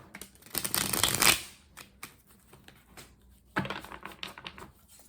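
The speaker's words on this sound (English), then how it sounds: "okay, this is my last shuffle." A deck of tarot cards is shuffled in two quick riffling bursts, a long crisp flutter of cards, a pause with light handling taps, then a second shorter riffle, close and clear.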